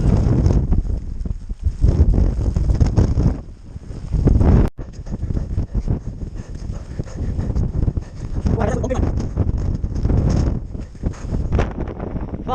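Strong wind buffeting a mountainside below the summit, loud rough roaring gusts hammering the microphone almost without pause, with a brief sharp dropout midway.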